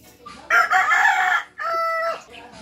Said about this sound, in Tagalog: Itom nga manok.